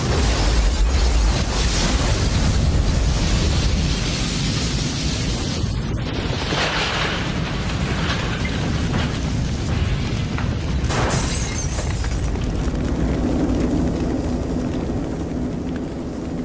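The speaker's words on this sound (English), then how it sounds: "It was a lightning-sparked gas explosion that set fire to an apartment house in Atlanta." A lightning-sparked gas explosion tears through an Atlanta apartment house: a loud, sustained roaring blast with rumbling low end and crackling bursts, continuing without a break for the whole stretch.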